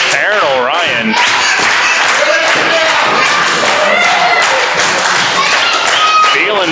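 A crowd claps along at an independent pro wrestling match, steady rhythmic claps and cheering from a packed audience under loud ringside commentary.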